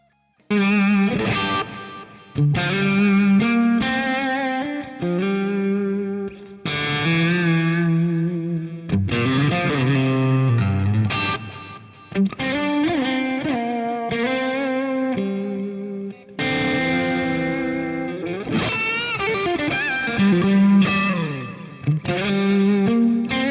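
Electric guitar solo played through an amp with post-amp EQ, delay and a touch of reverb, covering a song; sustained, singing lead phrases with bends and overdrive, loud and continuous with brief pauses between phrases.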